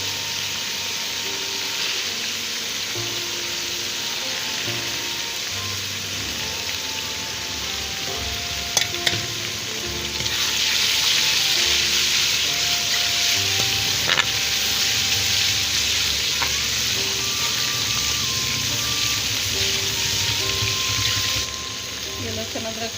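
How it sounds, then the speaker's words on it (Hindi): Steady sizzling and crackling of garlic and ginger frying in a hot pan, with occasional stirring clinks and a louder surge of hissing midway. "ये लहसुन अदरक फ्राई हो गया।"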